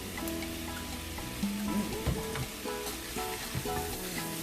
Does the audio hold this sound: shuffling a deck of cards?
no